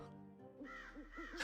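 Crow bird in the RuneScape 3 video game caws in a quick burst of several rasping calls, faint and close, with no talk over them.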